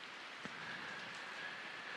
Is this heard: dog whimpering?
no